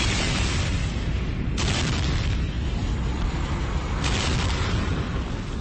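A rocket slams into a spaceship in a huge fiery blast, heard as a sustained roaring explosion with two sharper bursts swelling within it, loud and alone.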